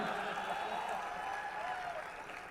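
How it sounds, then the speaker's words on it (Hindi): An audience at a poetry recitation breaks into a short burst of clapping that thins out and fades near the end, with a voice faintly audible beneath. "तुम ताली देर से बजाते हो यार"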